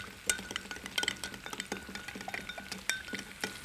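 A spoon stirs a lentil mixture seasoned with ground cinnamon, clinking against the pan in a quick, irregular run of light metallic taps, close and fairly soft.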